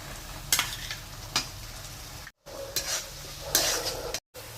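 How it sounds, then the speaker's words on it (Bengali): Ground spice paste hits hot oil in a kadai while snakehead fish curry is prepared, giving a close crackling sizzle with several bursts as it is stirred and scraped, broken by two brief cuts to silence. "এবার আমি বেটে রাখা যে মশলাটা আমি পেস্ট করে রেখেছিলাম সেটা দিয়ে দিচ্ছি"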